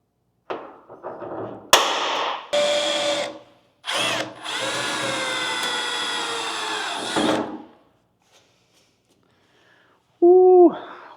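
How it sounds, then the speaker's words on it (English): A power drill bores a pilot hole through truck cab trim on a C10 pickup, several short bursts followed by one long whining run that slows in pitch, then a final brief burst after a pause. "drill a pilot hole"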